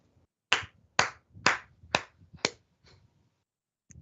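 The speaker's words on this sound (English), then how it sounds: "All right, you get a round of applause." A few slow, evenly spaced claps ring out one after another in a quiet studio, then stop, with a single faint tap trailing at the end.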